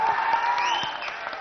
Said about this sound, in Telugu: మీ ఈరోజు మీ అభిమానం, ఈ చప్పట్లు, ఈ ప్రేమ ఇవన్నీ కలిసి ఒక్క పేరు చెప్తాయి, శోభన్ బాబు గారు.